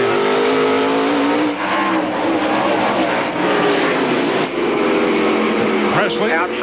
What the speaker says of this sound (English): driving this race car for Randy right now